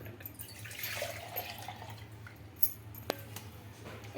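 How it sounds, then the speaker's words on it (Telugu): Water is poured into potato paste in a bowl while making potato papad at home, a soft splashing and dripping with a couple of small clinks, close and fairly quiet. "ఆలుగడ్డ పేస్ట్ తర్వాత వాటర్ వేస్తుంది"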